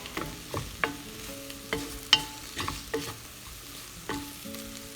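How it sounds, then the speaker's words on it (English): Crushed garlic stirred into sizzling pork for green chile, a soft sizzle under a series of rhythmic spoon scrapes and knocks against the pot, close and fairly quiet, with no talking. "you want to stir it in there so it gets nice and mixed up, mixed around"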